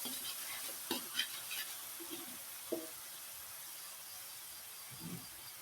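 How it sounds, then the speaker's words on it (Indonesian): Tempeh floss is stirred in a pan over lowered heat, with a few quiet scrapes and clinks of a utensil against the pan amid a faint background hiss. "Ini kita kecilkan apinya pemirsa, akan aduk kembali."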